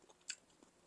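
A single crisp bite into the crunchy crust of sweet Chinese BBQ roast pork, heard close and quiet, followed by a softer chewing crunch.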